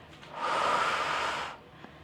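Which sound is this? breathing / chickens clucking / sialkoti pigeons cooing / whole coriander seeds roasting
breathing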